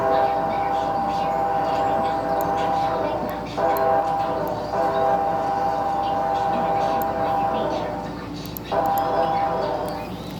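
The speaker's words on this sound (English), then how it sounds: "the next horn is on a BNSF AC44EV" A BNSF AC44 diesel locomotive sounds its horn, a steady multi-tone chord held in long blasts with brief breaks between them, heard continuously at moderate volume.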